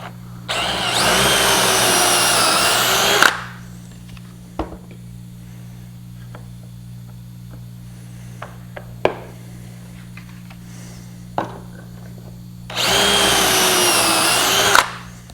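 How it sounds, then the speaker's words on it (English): A power drill bores pocket holes in wood, whirring in two sustained bursts of a few seconds each, separated by quiet stretches with small clicks and handling noises. "Let me drill a couple pocket holes in this bottom piece."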